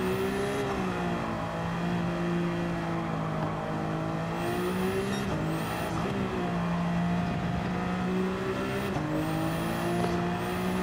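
Race cars in the Gran Turismo 7 video game drone steadily, with several engine notes rising and falling through gear changes and occasional high tire squeals, continuous and close.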